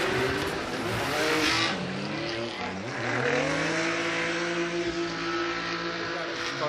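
A Nissan Fairlady Z drift car's engine revs hard while tires squeal and skid through a long drift at a Formula Drift Japan event, the roar rising and falling over a continuous screech.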